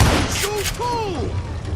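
Gunfire in the video game Singularity, a few sharp bursts of shots under overlapping game voices and effects, close and loud across a short moment.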